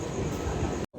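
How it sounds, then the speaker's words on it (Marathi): Early morning train heard from on board or close by, a steady loud rumble of rolling wheels and carriage noise that carries on evenly, then cuts out abruptly near the end. "सकाळची पहिली ट्रेन."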